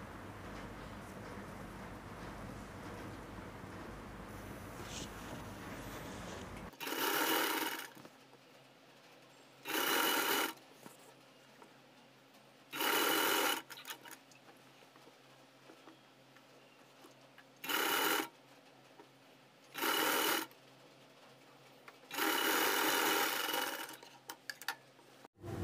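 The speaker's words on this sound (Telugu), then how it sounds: "ఇలా వెనక్కి వేసి ఒక టాప్ స్టిచ్ వేసేసుకోండి." A sewing machine top stitches the neck of a kurti in six separate short, loud runs of rapid stitching, with quiet pauses between them.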